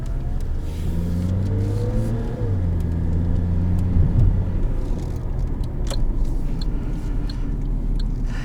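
A 2009 Suzuki Grand Vitara that has sat unused for years drives along, its engine rumbling steadily and rising as it accelerates, with continuous road and cabin noise close up.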